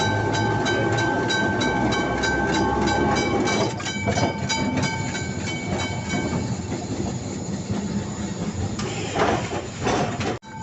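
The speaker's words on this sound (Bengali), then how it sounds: "আমাদের ট্রাম এখন যাচ্ছে লেলিন সরণি ধরে" A Kolkata tram rolls along Lenin Sarani, its steady rumble and rattling wheels filling the whole stretch with close, loud rail clatter, a few sharp knocks and a brighter screech near the end.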